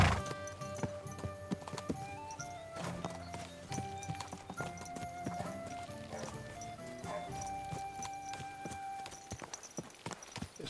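Horse hooves in Kingdom Come: Deliverance II, a rapid, steady clip-clop of a ridden horse close by, with occasional snorts and whinny-like sounds over faint background music.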